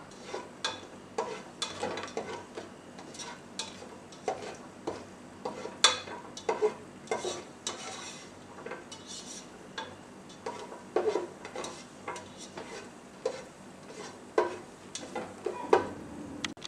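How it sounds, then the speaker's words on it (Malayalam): Cashew nuts fry in ghee while a spoon stirs them, a quiet sizzle under frequent irregular scrapes and clinks of metal against the pan, close by and with no voices. "അണ്ടിപ്പരിപ്പ് എടുത്ത് ഒന്ന് നമുക്ക് വറുത്തെടുക്കാം."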